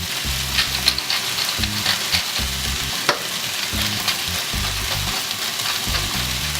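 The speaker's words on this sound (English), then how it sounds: "just give it a little toss" Steak and vegetables sizzle steadily in a hot pan for a steak, egg and cheese burrito, with a loud continuous hiss broken by several scraping tosses, heard alone.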